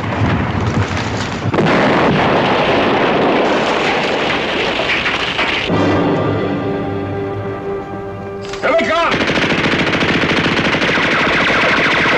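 Mortar and machine-gun fire in a 1963 TV war drama: dense, loud bursts of rapid gunfire with booming impacts. A brief lull in the middle then breaks into renewed heavy firing.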